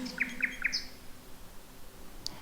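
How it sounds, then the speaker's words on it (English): A nightingale sings outdoors at a distance: three quick chirping notes in a row, then a higher note, with one faint call near the end over a soft hiss of background air. "the song of the bird grows louder and clearer."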